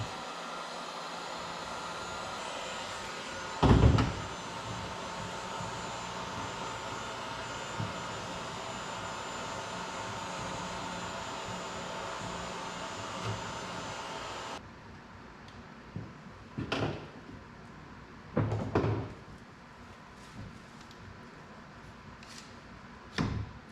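Heat gun warming the plastic of a 1995 Peterbilt 362 truck overhead console: a steady, fairly loud blowing hiss runs for about fourteen seconds, then cuts off, leaving a few scattered knocks and handling sounds.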